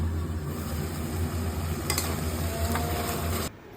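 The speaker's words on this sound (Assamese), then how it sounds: "তেলখিনি গৰম হোৱাৰ লগে লগে মই মেৰিনেট কৰি থৈ দিয়া চিকেনখিনি দি ভালদৰে গোটেইখিনি লৰাই মই ঢাকন মাৰি থৈ দিছোঁ" Marinated chicken frying in hot oil in a pan, a steady close sizzle with occasional scraping stir strokes, ending abruptly.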